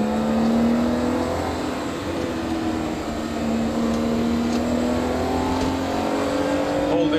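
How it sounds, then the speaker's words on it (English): A 1989 BMW E30 launches off the line at the Shelsley Walsh hillclimb, its engine note heard from inside the car as a loud, continuous drone that climbs steadily in pitch. "Try to get off the line without breaking traction."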